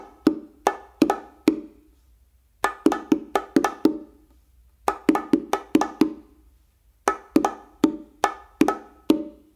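Bongo combination of open tones and muffs on the macho and hembra repeated twice, crisp close strikes grouped in quick rhythmic bursts with short gaps between phrases.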